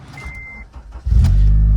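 A 1975 Chrysler Imperial at an insurance auto auction lot cranks briefly and then catches, settling into a loud, steady idle close to the microphone.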